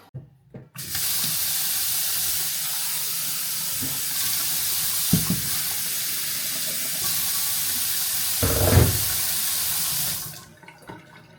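Water runs from a tap in the early morning, a strong steady gushing stream that starts abruptly, flows evenly for about ten seconds with a couple of faint knocks, then cuts off sharply, with nobody talking.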